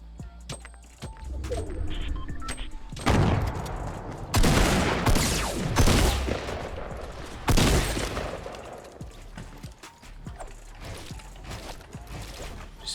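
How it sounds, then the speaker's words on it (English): Bursts of light machine gun fire in the video game Fortnite, with several loud sustained volleys amid softer mechanical clicks and rattles, a voice faintly audible underneath. "He's got an LMG. You guys hear that?"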